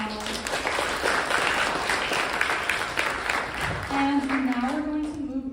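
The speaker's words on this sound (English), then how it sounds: "One more round of applause for them as well." An audience claps throughout at a school civics day event, a dense, sustained applause, while a voice speaks over it near the end.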